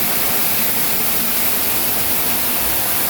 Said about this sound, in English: Many waterfalls.